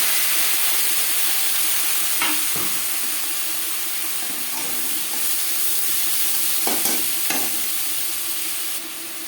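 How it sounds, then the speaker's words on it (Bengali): Chopped onions hit hot oil left from frying fish, giving a steady loud sizzle with a few sharp scrapes of stirring spaced through it, no talk. "মাছ ভেজে নেওয়া তেলে দিয়ে দেবো পেঁয়াজ কুচি"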